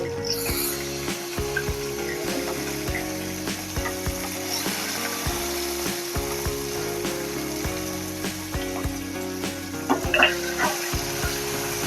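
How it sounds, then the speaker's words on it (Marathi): Garlic cloves, green chili and coriander frying in a pan, giving a steady close sizzle with clinks and scraping of stirring throughout. "आपण यामध्ये एक हिरवी मिरची तोडून घालणार आहोत सात आठ पाकळ्या लसूणच्या आणि थोडी कोथिंबीर घालणार"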